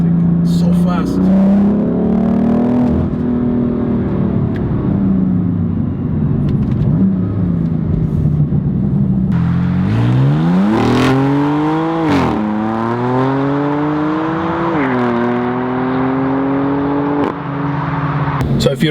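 A 2018 BMW M4 Competition Package driving, its engine note droning steadily then rising and falling in clear pitch sweeps as it accelerates and shifts, close and loud throughout, with someone talking over it.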